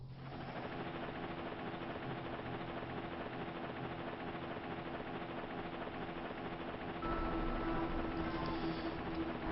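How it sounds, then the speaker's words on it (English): Transport helicopter approaching in the game Mega Man Zero, a steady mechanical drone with rapid rotor flutter that grows slightly louder and deeper near the end. "Their transport chopper is rapidly approaching."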